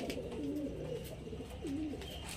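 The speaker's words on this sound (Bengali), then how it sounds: "এই যে পায়রা ডাকছে আপনারা দেখতে পাচ্ছেন" A pair of pigeons coo nearby in soft, low, repeated rolling calls, two clear phrases over a quiet background.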